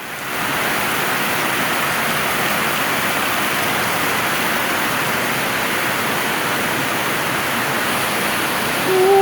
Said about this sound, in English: Ooh, what a rain.